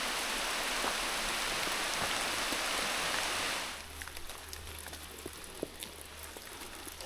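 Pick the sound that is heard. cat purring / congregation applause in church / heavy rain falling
heavy rain falling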